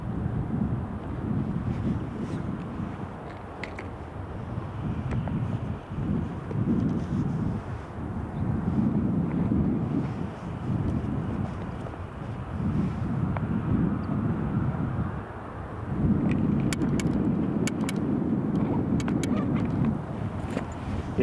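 Jet engines of a Delta airliner roar steadily during its takeoff roll at Edinburgh Airport, a broad low rumble with wind buffeting the microphone that swells louder toward the end, with no talking over it.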